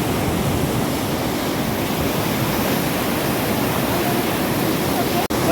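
A continuous, loud roar of rushing river water fills the whole stretch, steady and close, with one sharp click near the end.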